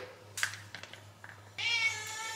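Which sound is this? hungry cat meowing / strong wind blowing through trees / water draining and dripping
hungry cat meowing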